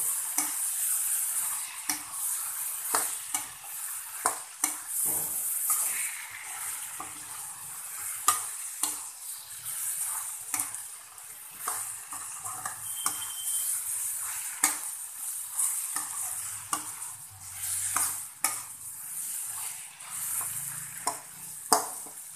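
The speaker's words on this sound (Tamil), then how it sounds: "நல்லா வதக்கலாம்." Ingredients for a karamani (black-eyed pea) kuzhambu sautéing in a pan, a soft steady sizzle over a long stretch punctuated by many brisk spoon scrapes and taps, fairly quiet and without speech.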